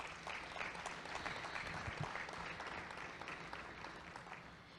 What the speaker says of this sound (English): just give them a big round of applause because of what they do